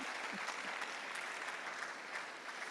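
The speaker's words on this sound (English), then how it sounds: "So you must clap for me for that." Faint, continuous clapping from a small audience at a Christian hangout session, a soft patter of hands throughout with no voices over it.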